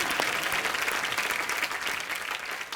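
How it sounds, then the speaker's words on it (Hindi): Studio audience at a comedy talk show clapping for the star cast of a TV serial, a full, continuous burst of many hands applauding, fairly soft and steady, tapering slightly at the end. "मोमो के धागे की स्टार कास्ट के लिए तालियां"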